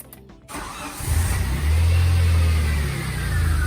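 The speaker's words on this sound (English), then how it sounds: "how does it run with a true cold start with the new fuel lines tuned up?" Cold start of a 1981 DeLorean DMC-12 engine fitted with new fuel lines: a brief starter crank, then the engine catches and settles into a steady, loud, close idle with no one talking.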